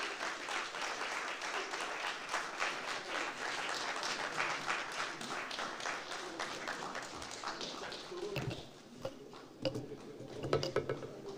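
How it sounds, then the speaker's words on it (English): A symposium audience at the Ghana Journalists Association anniversary applauds after a speech, a steady wash of clapping that thins out toward the end, with scattered louder claps and a few sounds of movement. "The clap should be louder."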